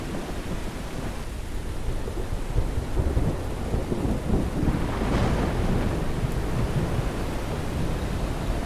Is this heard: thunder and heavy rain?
yes